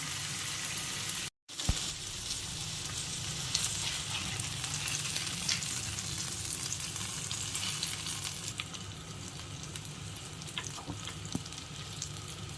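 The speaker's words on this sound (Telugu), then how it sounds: "కూడా బాగా ఫ్రై చేసుకుందాం" Fish frying in a pan, a dense continuous sizzle and crackle heard up close throughout, with a brief dropout near the start and no talk.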